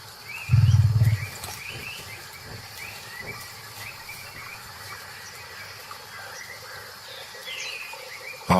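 A tiger gives one short, loud, low roar close by over a background of chirping insects and birds in the wild, then the scene goes quiet apart from the insects.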